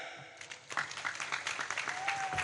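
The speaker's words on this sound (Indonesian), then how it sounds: "tepuk tangan" A crowd claps in a steady burst of applause, the patter of many hands filling the space, with a little background murmur.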